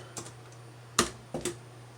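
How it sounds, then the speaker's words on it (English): A few soft keystrokes tap on a computer keyboard at close range. One sharper key press stands out in the middle, and the short, quiet sequence has no talking. "Type Miniterm."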